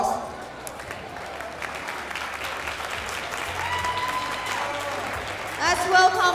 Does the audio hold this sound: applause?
yes